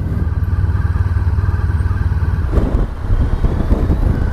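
A motorcycle engine hums steadily and up close while the rider descends through the Austrian, Slovenian and Italian Alps, with wind rush and a brief dip in engine note partway through.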